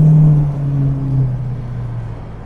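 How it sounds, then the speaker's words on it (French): A 1970 Dodge Challenger R/T's V8 rumbles close by in traffic, its deep tone sliding down after a rev and settling into a steady low idle, with no voices. "On ne peut pas s'empêcher de faire vrombir le V8"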